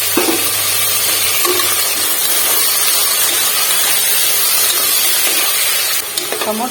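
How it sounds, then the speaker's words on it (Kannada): Tomatoes and onions frying in oil in a pan for soya chunks biryani, a loud continuous hiss of sizzling with faint stirring, steady throughout. "ಸೊ ಅಲ್ಲಿವರೆಗೂ ಎಣ್ಣೆ ಫ್ರೈ ಮಾಡ್ಕೊಳ್ಳೋಣ"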